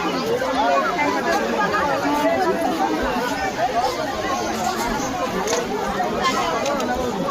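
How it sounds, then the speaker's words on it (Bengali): Dense chatter of a large crowd of visitors at Panchalingeswar Temple on New Year's Day, many overlapping voices forming a steady, loud babble throughout. "দেখো ভিড়, দেখো একবার ভিড়।"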